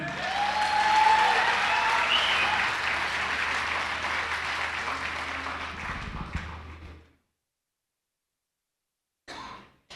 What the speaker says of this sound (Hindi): तालियां बजाकर इजाजत दे दें।